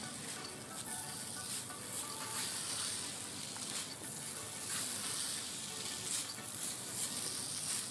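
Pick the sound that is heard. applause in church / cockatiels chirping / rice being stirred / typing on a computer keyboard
rice being stirred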